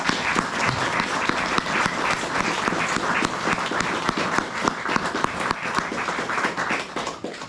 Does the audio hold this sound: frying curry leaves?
no